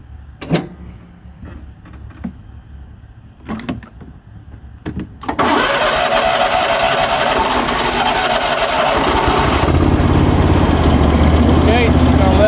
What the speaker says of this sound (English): you're going to start your engine, and you're going to let it idle for 1 minute